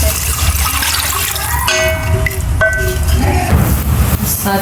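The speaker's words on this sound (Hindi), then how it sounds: "अब हम इसमें डालेंगे पानी चावलों के साथ" Water pours and splashes steadily into a pot of rice being cooked for chicken mandi, with occasional metallic clinks of utensils against the rim throughout.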